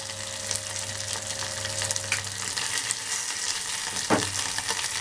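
Moringa leaves frying in a pan and being stirred, giving a steady close sizzle with soft scraping and a few sharper clacks from the stirring utensil.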